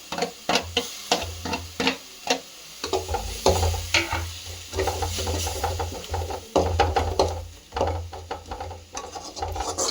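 Tomatoes with ginger garlic paste sautéing in a pan for a goat head curry, stirred hard with quick, loud scraping strokes over a low sizzle, alone without talk.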